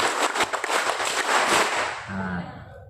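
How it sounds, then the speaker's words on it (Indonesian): A crowd at a company leadership talk bursts into a rapid, dense round of patterned scout-style clapping that crackles loudly for about two seconds, then fades into quiet. "Tepuk tangan pertama"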